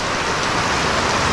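Heavy rain pours steadily in a broad, loud, unbroken hiss on cold, wet weather, with no talking heard.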